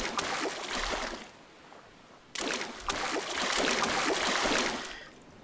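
In the survival game Stranded Deep, water sloshes around a player who is standing in it, with two swelling bursts of splashing separated by a brief quieter gap.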